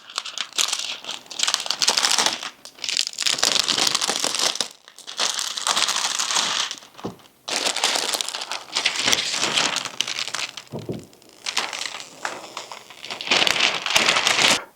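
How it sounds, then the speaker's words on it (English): A thin protective film layer is peeled off a Jeep JLU windshield in long continuous crinkling, crackling bursts with brief pauses between pulls, loud and close, with no talking. "now I'm going to take the thin layer and just pull all the way off"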